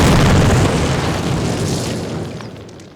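A demolition charge explodes in the video game Call of Duty (2003): one loud, close blast followed by a long rumbling decay that fades over a few seconds.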